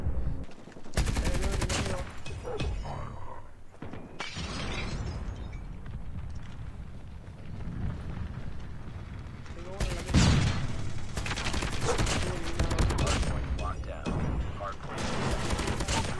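Hip-fired gunfire in a first-person shooter: dense, loud sustained bursts in stretches, broken by brief gaps, with explosions and a player talking over the action.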